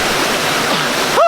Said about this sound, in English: There's a river here